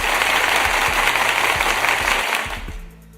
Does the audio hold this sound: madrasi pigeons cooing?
no